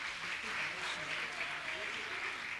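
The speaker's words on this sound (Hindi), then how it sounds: "तालियां तो बजाइए आप लोग" Audience applause at a Jain religious gathering honoring guests, steady and fairly faint, with a diffuse hall sound and some voice-like tones underneath.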